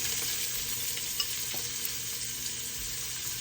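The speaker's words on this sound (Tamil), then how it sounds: "வெங்காயம் வதங்கிட்டுது இப்போ இந்த பீட்ரூட்டை போட்டுக்கொள்கிறேன்" Beetroot tipped into sautéed onions in a clay pot gives a steady close sizzle and frying hiss, with soft stirring scrapes and a few light knocks throughout.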